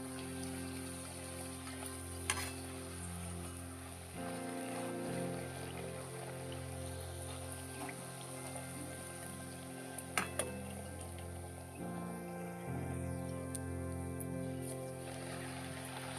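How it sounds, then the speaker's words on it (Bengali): Paneer puris deep-frying in a pan of hot oil at home, a steady close sizzle and bubbling with occasional clinks and stirring noises, no voices. "বাকিগুলো আমি এভাবে ভেজে নেব"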